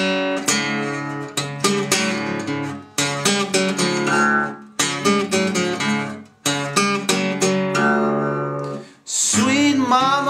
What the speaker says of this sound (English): he'll play this quick riff with four notes, which will sound like this.